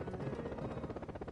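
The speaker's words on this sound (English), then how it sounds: "Helicopters are rushing to the scene." Helicopter rotor noise, a rapid rhythmic thudding chop with a steady buzzing drone, moderately loud and continuous over a short stretch, with no speech.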